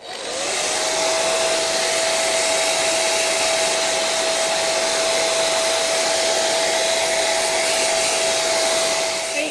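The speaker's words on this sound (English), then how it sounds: "once I put the blow dryer on, everything ventilated away" A hair dryer blows steadily and loudly for several seconds, drying a clay dinner plate, a constant airy roar with a high motor whine and no talking.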